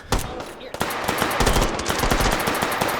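Rapid automatic gunfire from a magazine dump in the VR shooter H3VR, a dense, loud burst of closely spaced shots running almost without a break, with a brief gap near the start.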